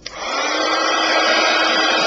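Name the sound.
heat gun drying glitter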